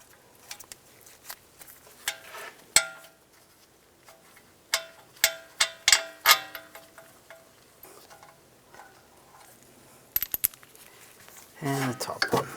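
Sharp metallic clinks and taps of bolts being handled and started by hand on a Jeep Cherokee rear wheel hub, scattered single hits with quiet gaps and a brief rattling scrape near the end.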